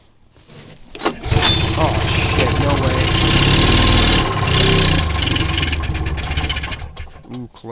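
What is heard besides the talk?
Polaris Galaxy snowmobile engine cold starting and idling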